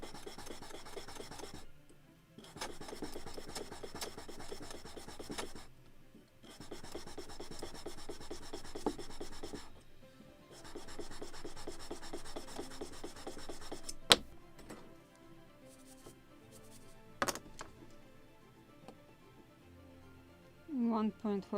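Wood being hand sanded on a model of the 1776 gunboat Philadelphia, close rhythmic rasping strokes in long runs with short pauses, a few sharp knocks near the end, with a person talking over it.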